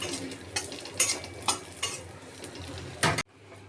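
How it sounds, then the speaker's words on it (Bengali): Raisins fry in a pan for sago kheer, sizzling close up under repeated scraping stirs of a spoon against the pan that stop abruptly near the end. "এখন কিশমিশ দিয়ে ভেজে নেব।"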